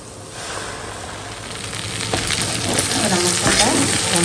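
A paste of ground cashew, poppy seed, onion and garlic fries in a pan, its sizzling starting soft and growing steadily louder and busier, close and continuous with no voice over it.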